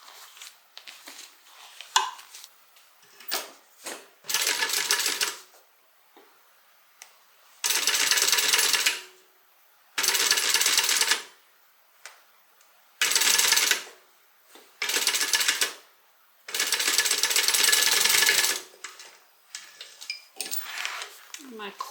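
A sewing machine stitching the gusset and binding of a Compton Carryall bag runs in several loud bursts of a few seconds each, separated by quiet pauses with some talking and handling noises.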